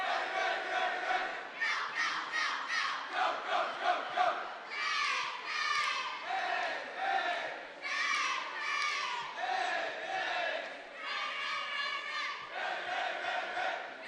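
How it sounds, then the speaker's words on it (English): Spectators at a home boys basketball game shout and cheer loudly in sustained, surging waves throughout, with high-pitched voices prominent in the roar. "Crowd starting to get a little revved up here."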